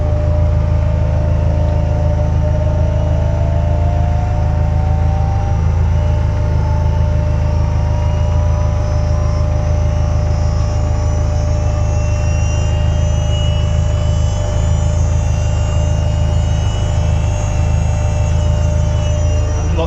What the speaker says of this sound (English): power steering almost spools up like a jet engine.